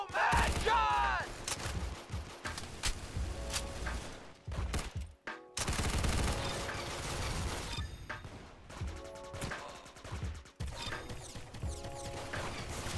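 Rapid gunfire and mechanical weapon clatter from the Roblox shooter Arsenal, dense bursts of shots with brief pauses and reloading clicks throughout.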